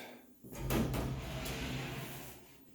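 Sliding bypass closet doors in a newly built home glide along their track, a single rolling, rumbling slide lasting a couple of seconds, fairly near and moderately loud with no talk.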